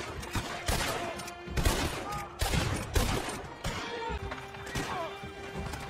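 Rapid gunfire from the video game Red Dead Redemption 2, with repeated loud shot bursts and fusillades cracking at uneven intervals over a noisy game backdrop, and faint voices in the background.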